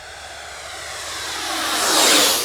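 A Freewing Eurofighter Typhoon RC jet with a 90mm electric ducted fan runs at half throttle, its steady whooshing whine swelling louder as it draws near, then starting to fade, with no voices over it.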